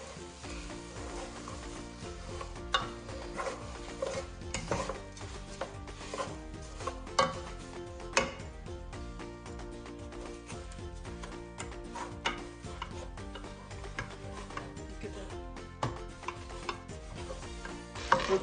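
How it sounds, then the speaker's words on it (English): A wooden spoon stirs thick chocolate flapjack mixture with honey in a bowl, giving a steady run of close scraping and sticky clicking strokes with no talking. "Now guys, it's time to mix it,"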